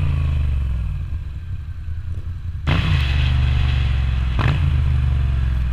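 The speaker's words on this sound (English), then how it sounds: "I just love making that exhaust note rev as I slow down" Moto Guzzi V9 Roamer motorcycle fitted with an Agostini exhaust, a deep, loud engine note that blips sharply upward twice while riding.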